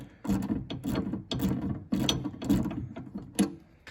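A compact 3/8-inch drive ratchet is flicked by hand, giving a run of quick clicking bursts in uneven pulses over about four seconds, close and dry, with no voices.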